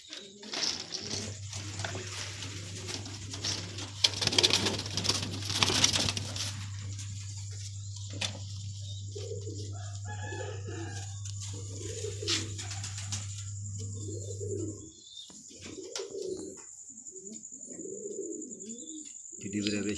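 Pigeons coo in repeated low throaty phrases, several close and distinct, with a steady low hum running through the first part and some louder handling noise early on.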